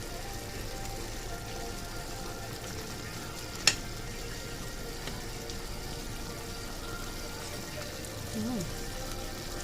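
Pork sautés with tomatoes in a pan, a steady close hiss of frying and sizzling like light rain, with a single sharp click partway through.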